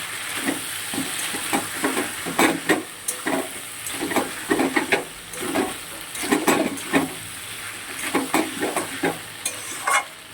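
Crab frying in a pan with potato, onion and ginger-garlic paste: a constant hot sizzle broken by rhythmic scraping and stirring strokes of a spatula, loud and close, with no talking.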